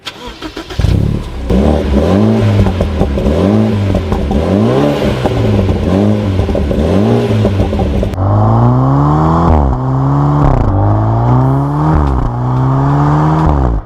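A BMW Z4 four-cylinder turbo engine fires up and revs repeatedly in loud, rhythmic bursts close by, each rise falling back with crackling exhaust pops, settling into a second run of sharper rev cycles.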